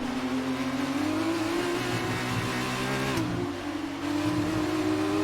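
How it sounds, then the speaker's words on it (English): A race car in the F1 2019 game roars at high revs, its engine tone dipping briefly as it downshifts before climbing again, a loud, steady whine with no talking. "Downshift we go."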